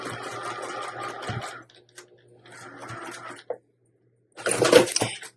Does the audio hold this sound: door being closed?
no